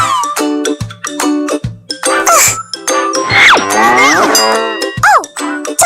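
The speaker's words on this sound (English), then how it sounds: "It's a cow from the herd, and it makes sound." A cow from a herd lowing loudly alongside clanging cowbells in a cartoonish animal-sounds sequence, with bright rhythmic dings and bell hits around drawn-out moos.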